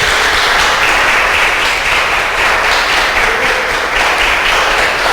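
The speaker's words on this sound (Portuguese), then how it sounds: "Aplaude a Deus por isso." A church congregation applauding, loud sustained clapping that fills the room evenly for several seconds with no pauses.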